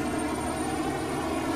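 A tractor engine in the Farming Simulator 19 video game driving on the road, giving a steady, dense whooshing roar like a jet plane, loud and constant without a break.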